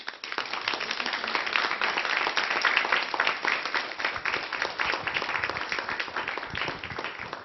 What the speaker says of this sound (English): can we give him a warm round of applause?